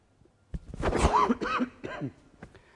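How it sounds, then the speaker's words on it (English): A speaker at an international conference gives a few harsh, throaty coughs in quick succession, close and fairly loud, followed by quiet. "I've developed a cough, so you will see me just coughing in and out from the presentation"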